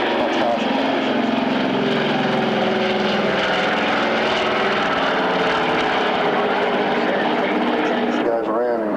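A propeller aircraft at the Avalon Airshow, 2001 gives a loud, steady engine drone that holds throughout and sweeps in pitch toward the end as it passes.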